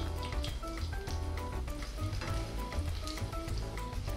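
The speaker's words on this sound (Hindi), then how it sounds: "जो मसाले है ना इसको हमें हल्का घी में रोस्ट करना है" Whole coriander seeds, garlic cloves and sliced ginger roast in ghee for tomato mint soup, giving a steady, close, busy sizzle with fine crackling pops throughout.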